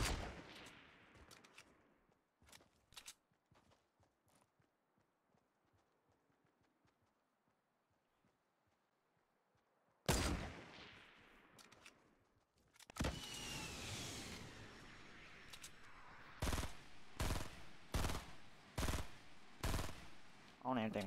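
Gunfire in the video game Fortnite Battle Royale, with a few sharp shots early, a quiet stretch, then a burst of dense rapid fire followed by repeated loud volleys.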